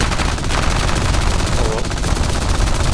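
Aircraft guns on an I-15 fighter in War Thunder air arcade battle fire in rapid, continuous bursts, loud and close over engine noise, with no speech.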